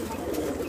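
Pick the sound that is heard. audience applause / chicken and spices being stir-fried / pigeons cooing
pigeons cooing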